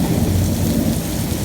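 Thunder rumbles during heavy rain in Qatar, a dense low roar mixed with the steady hiss of rainfall, loud and continuous.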